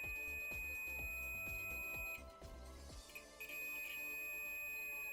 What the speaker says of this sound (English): you'll hear a beep sound when your probes make contact